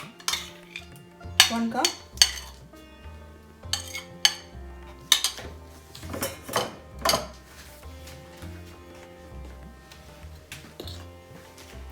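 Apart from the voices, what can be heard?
spoon and bowl clinking while adding hung yogurt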